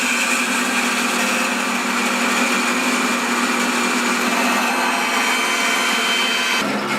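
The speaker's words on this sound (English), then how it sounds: "So I'm going to make some more pieces like that in bass on the old bandsaw there." A bandsaw slices through basswood stock with a steady, loud high-pitched whine and broadband cutting hiss that holds unbroken for several seconds, then shifts slightly near the end as the cut finishes.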